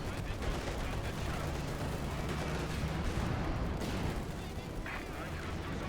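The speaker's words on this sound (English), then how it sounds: "He will call in the light artillery barrage." A light artillery barrage in Company of Heroes 2 rumbles as dense, continuous gunfire and explosions, loud and sustained, while a commentator talks over the battle.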